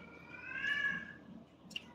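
A cat gives a drawn-out, whiny meow, followed by a brief faint chirp, fairly soft over a low background rumble.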